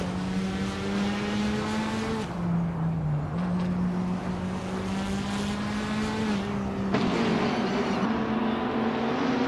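Race cars in a racing game, including a 2015 Ferrari 488 GTE, give a steady, loud engine drone that holds a sustained pitch, dipping and shifting with gear changes and throttle, with no talking.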